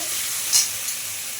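Onion and tomato frying in a pan, a soft steady sizzle with a brief louder hiss near the middle, no voices.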